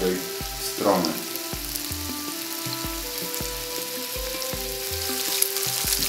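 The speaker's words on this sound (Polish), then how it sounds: "Smażymy tak po 2 minutki z każdej strony." Lamb chops sizzling steadily in a hot pan, a continuous crackling fry with a few soft thumps and scrapes, close and fairly loud.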